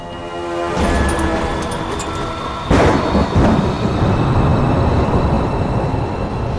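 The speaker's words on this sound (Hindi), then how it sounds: "तूफान तेजी से बढ़ रहा है" A strong thunderstorm in a film scene: steady heavy rain hiss with rolling thunder, and a sharper, louder crack that breaks out midway and rumbles on.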